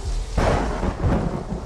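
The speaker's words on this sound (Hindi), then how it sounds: "बहुत तेज बारिश" Heavy rain pours steadily while a deep roll of thunder booms in suddenly partway through, a loud low rumble over the constant hiss of the downpour.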